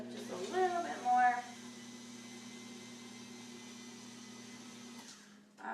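Electric mixer whirring steadily through cookie batter, a constant motor hum that runs for several seconds and cuts off near the end, with a voice speaking briefly at the start.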